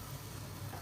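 Masala being roasted in ghee in a handi on a medium-low flame for masala chicken kabab, a steady soft sizzle and low bubbling crackle running continuously and close up, with no voices.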